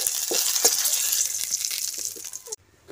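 Raisins fry in hot oil, a close steady sizzle with a few soft knocks of stirring that stops abruptly near the end, leaving near silence.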